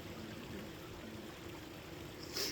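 Stream water runs over rocks beneath a small bridge, making a steady close rushing and babbling that holds without a break, with no voices.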